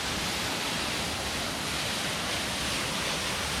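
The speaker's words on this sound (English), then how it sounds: "We just made it to the last waterfall of these 3 last waterfall hikes." A tall waterfall in Boquete, Panama pours with a steady, dense roar of falling water, loud and unbroken throughout with no voices over it.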